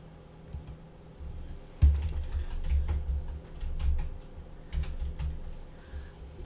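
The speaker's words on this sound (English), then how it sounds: "then we're gonna type in project" Keys on a computer keyboard are typed in short, close bursts of clicks with pauses between them, at a quiet level with no talking.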